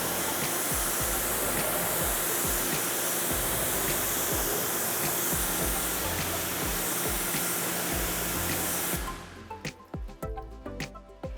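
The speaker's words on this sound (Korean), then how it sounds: "고압수로 한 번 더 헹궈 보도록 할게요." A high-pressure water jet rinses a car's painted surface after a wet paint cleanser, a loud, steady hissing spray that runs for about nine seconds, then cuts off, leaving drips and splashes.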